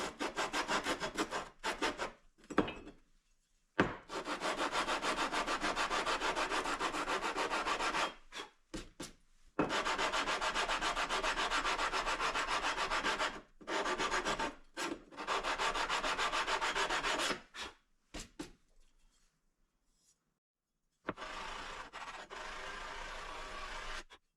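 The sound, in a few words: sanding metal part flat by hand with sandpaper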